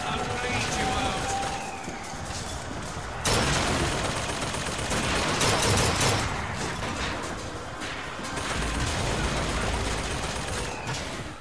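Bursts of gunfire and heavy impacts from a firefight in the video game Bioshock Infinite, including sniper shots, dense and loud throughout, with voices shouting over the fighting.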